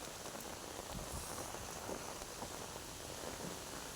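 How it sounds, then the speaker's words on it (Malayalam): Heavy rain pours steadily outdoors near a bushy crab-catching spot, a dense, continuous hiss of drops striking surfaces at close range with no breaks and no voices. "നല്ല മഴയാട്ടാ"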